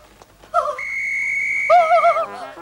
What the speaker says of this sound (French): je vais me servir de mon sifflet